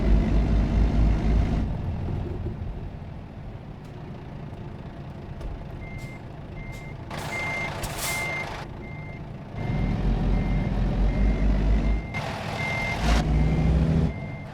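A truck backing up in American Truck Simulator, its reversing alarm beeping in a steady, evenly spaced rhythm over a low diesel engine rumble that swells and eases, with occasional brief hissy bursts of air.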